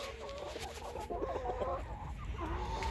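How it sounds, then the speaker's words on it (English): A Barred Rock rooster's clucking and low crowing calls amid a farmyard, moderately distant, with other fowl noises scattered through. "There's our barred rock rooster."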